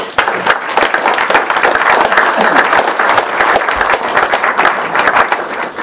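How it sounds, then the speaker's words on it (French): Audience applause for firefighters at a Sainte-Barbe celebration in Malestroit-Ruffiac, a dense, steady wash of many hands clapping close and loud for the whole stretch, with no one speaking over it. "Je pense que nous pouvons tous les applaudir."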